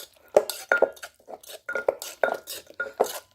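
Tomatoes with shallots, garlic and chili are stirred in a pan, a string of quick scraping clinks from utensil on cookware in an uneven rhythm, close and clear, with no talk over it.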